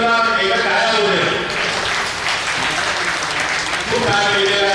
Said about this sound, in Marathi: त्याबद्दल पै मॅडमला एका टाळ्या होत्या.